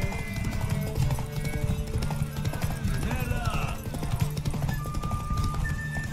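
Rhythmic clip-clop of a galloping horse in the video game The Witcher 3: Wild Hunt, loud and continuous, with a short whinny partway through and game-like background sounds.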